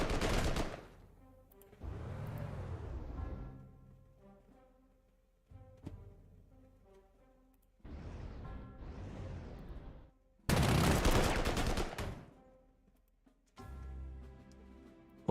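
Artillery fire from the Panzer Corps II strategy game comes as several separate loud booming salvos with rolling rumbles, spaced by short quieter gaps, and includes one especially intense burst near the end.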